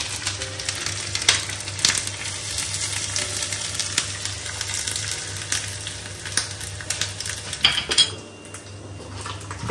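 Mustard seeds splutter in coconut oil with grated coconut frying for erissery, a busy sizzle broken by sharp crackles and metal utensil clinks against the pan, close and fairly loud, with no speech.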